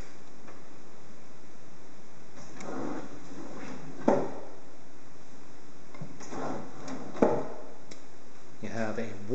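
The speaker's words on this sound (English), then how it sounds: "All the drawers and cabinets are self-closing." Self-closing kitchen drawers and cabinets in a leased residence glide shut with soft rolling slides, ending in a few muted thumps spaced several seconds apart over a steady room hiss.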